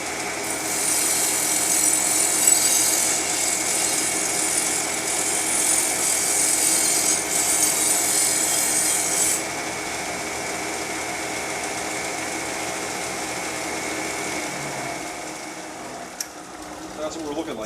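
Power sanding of a thin metal edge before welding in an artisan workshop, a loud, steady grinding whine that runs for about nine seconds, then gives way to quieter machine hum and a few faint clanks.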